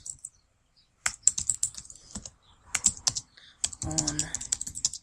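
Typing on a computer keyboard while filling in an email list form, quick bursts of close, crisp key clicks with pauses between them and a voice talking briefly.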